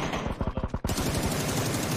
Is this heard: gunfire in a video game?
yes